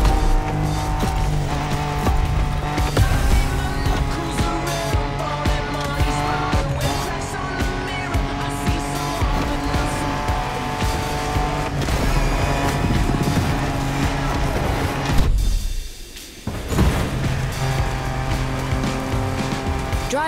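A car in The Crew Motorfest video game drives off-road, its engine droning steadily and loudly throughout, with a brief dip and a sharp burst near the end.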